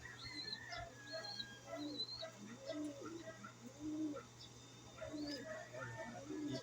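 Fancier pigeons cooing in a loft, repeated soft rolling coos from several birds close by, with faint background chatter and a low steady hum.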